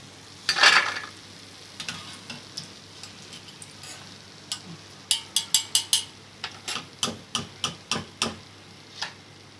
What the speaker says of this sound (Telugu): ఇలా బ్రౌన్ కలర్ వచ్చేంత వరకు కూడా వేపుకొని తీసేసుకోవాలి